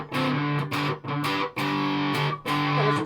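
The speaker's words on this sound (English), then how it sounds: "I think that's a pretty good heavy metal sound." Electric guitar with heavy metal distortion through an ARTEC QDD Quadsound preamp, loud chugging chords in short bursts with brief gaps between, saturated and close, no talk.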